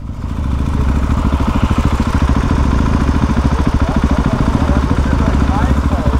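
A KTM SMC R supermoto idles close by with a loud, rapid, steady thumping chug and mechanical clatter that runs unbroken throughout.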